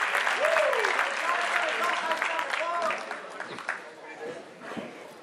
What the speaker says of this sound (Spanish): Aplausos del público, no es para menos.